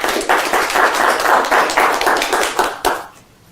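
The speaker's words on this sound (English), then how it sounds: "Give him a round of applause, please." Audience at a live magic show claps in a dense burst of applause for about three seconds, then it quickly fades out.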